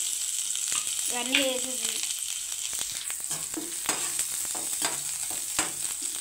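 Onions, garlic and soaked meal maker soya chunks frying in a pan, giving a steady close sizzle broken by spatula knocks and scrapes, while a voice speaks briefly near the start.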